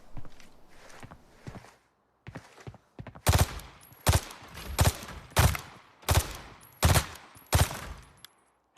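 Gunfire in the Arena Breakout shooter game: seven sharp, loud broadband shots spaced roughly half a second apart in the second half, preceded by softer footstep-like clicks and movement noise.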